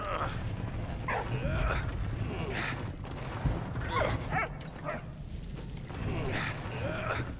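A dog in a First World War trench video game (Soldats Inconnus) gives several short barks and soft whimpers, moderately loud over a steady low ambient rumble and game effects.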